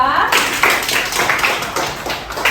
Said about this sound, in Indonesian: Tepuk tangan untuk Novia